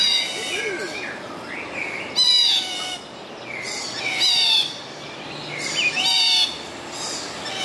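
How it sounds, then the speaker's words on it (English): Many birds call and squawk together inside a walk-through aviary in Hong Kong Park, housing around 600 birds, with repeated bright chirps and harsh calls in bursts over a steady chorus. "there are about 600 birds in here"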